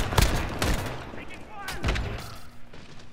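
Gunfire in Call of Duty: Modern Warfare, a handful of sharp, close shots and short bursts in a multiplayer match, with a voice shouting over the shooting.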